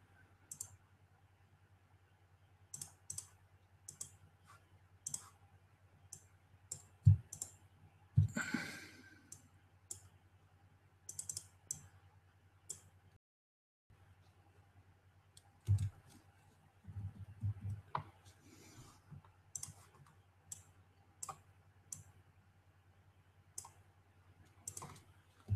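Sparse computer mouse clicks sound at an uneven pace during Inkscape drawing, close and quiet, separated by pauses, with faint breathing in between and no talking.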